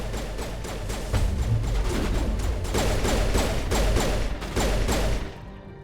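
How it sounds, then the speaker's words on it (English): Rapid bursts of gunfire in the video game Mass Effect, with shots crackling in quick repeated volleys for several seconds before cutting off near the end. "I guess we're shooting people."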